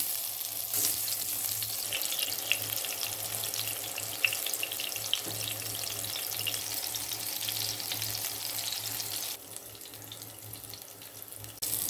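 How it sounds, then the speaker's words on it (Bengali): Eggplant pieces frying in a pan, giving a loud, dense, continuous sizzle that runs unbroken throughout with no talking. "বেগুনগুলো ভেজে নেব।"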